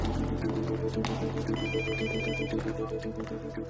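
A telephone rings indoors with a steady, loud electronic ringing pattern in repeated bursts, close by and not covered by any speech.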